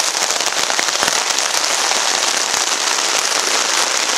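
Steady heavy rain drums on a taut tarp strung over a hammock during a storm, a dense close patter with scattered sharper drops cracking through.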